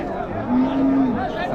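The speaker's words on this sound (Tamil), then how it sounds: "இதெல்லாம் பார்த்தீங்கன்னா உழவு மாடுங்க" A plough ox at a busy open cattle market moos once, a short sustained low call in the middle of a steady crowd hubbub.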